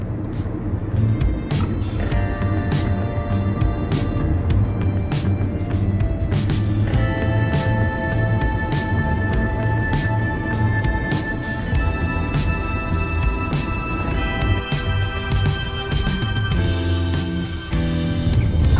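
A Toyota Innova Hycross GX-O descends the Amboli ghat road, its engine and tyre roar steady and close from inside the cabin, with a constant hum and shifting tonal whine throughout.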